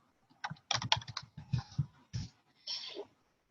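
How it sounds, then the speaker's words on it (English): A web address is typed on a computer keyboard, heard as a close burst of distinct clicking keystrokes in an uneven rhythm, ending in a slightly longer press, with quiet gaps between. "I'm going to type in slidesgo.com"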